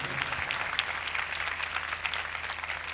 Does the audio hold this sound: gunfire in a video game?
no